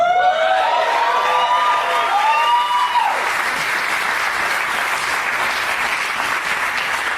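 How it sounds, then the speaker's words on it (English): Live comedy podcast audience applauding loudly and continuously, with some whoops rising over the clapping at first, then a dense steady wash of applause close and full. "Just sitting there soaking in all the applause instead of moving his ass."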